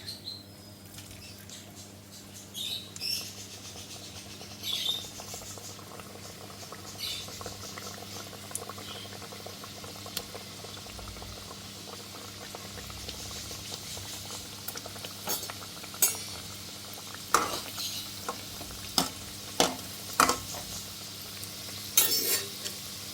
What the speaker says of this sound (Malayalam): ഇപ്പോൾ നമ്മൾ ഓയിൽ ചൂടായി വന്നിട്ടുണ്ട്. നമുക്ക് ഇറച്ചിപ്പത്തിൽ ഓരോന്നായിട്ട് ഇതിലേക്ക് ഇട്ട് കൊടുക്കാം.